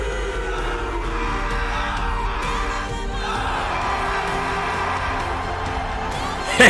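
A large crowd roars and cheers continuously at a live stage event, a dense, loud wall of shouting and whooping that holds steady throughout with a brief louder burst at the very end.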